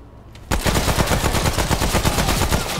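Rapid automatic gunfire from a weapon in the video game Remnant: From the Ashes, a loud continuous burst of tightly spaced shots starting abruptly and lasting a couple of seconds.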